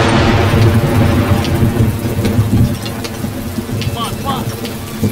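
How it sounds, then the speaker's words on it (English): Steady heavy rain hisses over a deep, continuous rumble of thunder, loud and enveloping throughout. "The rain's no issue."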